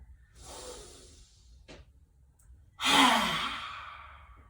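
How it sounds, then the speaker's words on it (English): Forceful lion's breath exhale in a yoga session: a soft breathy inhale, then a loud, long, raspy open-mouthed exhale with the tongue out, close and alone, trailing off over a couple of seconds. "a couple rounds of Simhasana Pranayama. Scrunching the face on the inhale. Stick out the tongue, maybe look up as you exhale"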